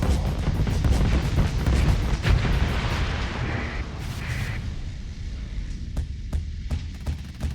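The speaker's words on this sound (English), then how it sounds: "I have a bunch of Vulcan cannons, and then I also have dual flak." Vulcan cannons and dual flak fire in a space combat game, giving a dense rumbling barrage of rapid thuds and booming bursts that thins out into scattered sharp shots toward the end.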